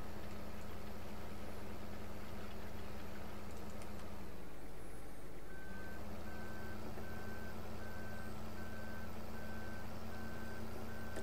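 Truck reversing with a trailer in Farming Simulator 15, its engine droning steadily while a regular reversing beep starts partway through and repeats evenly to the end.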